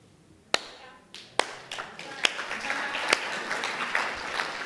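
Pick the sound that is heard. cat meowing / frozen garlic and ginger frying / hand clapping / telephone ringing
hand clapping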